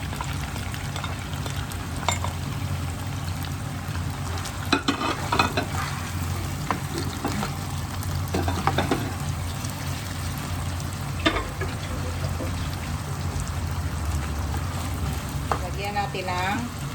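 Chicken in leftover marinade fries with a steady sizzle in a pot, broken by repeated scraping and clanking strokes of a spoon stirring it, close and continuous.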